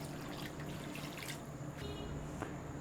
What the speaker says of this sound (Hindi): तो जी 2 गिलास हमने पानी के शामिल कर दिए।